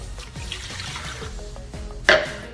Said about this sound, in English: Start off with half a glass of water.